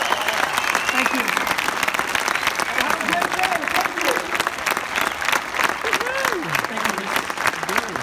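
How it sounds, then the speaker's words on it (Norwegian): Sustained applause from an audience at a talk, dense and steady for several seconds, with a few voices calling out faintly beneath the clapping. "A big applause."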